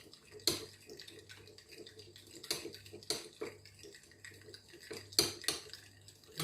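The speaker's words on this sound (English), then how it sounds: "Then I'm going to be mixing them together." A spoon mixes a potato juice skin remedy in a small bowl, making quiet, irregular clinks and taps against the sides with soft swishing between them.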